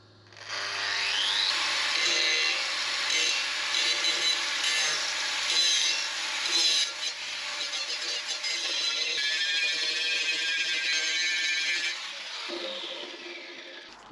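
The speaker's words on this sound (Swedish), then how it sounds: "vi sätter igång och slipar" Continuous abrasive sanding of wood, a steady gritty rasp that runs for over ten seconds before stopping.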